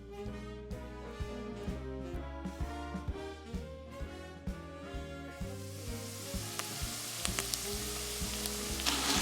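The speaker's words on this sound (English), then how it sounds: "I'm gonna put it some onions to fry." Onions frying in a pressure cooker before lamb is added, a soft hiss that grows louder toward the end beneath prominent music.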